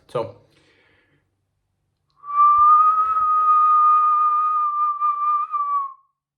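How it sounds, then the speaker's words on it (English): A click, a pause, then one loud, sustained human whistle held on a single high pitch for about four seconds. "I'm going to whistle loud"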